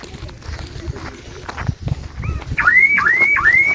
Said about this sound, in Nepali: कसले हर्न बजाइदिएछ है त्यहाँ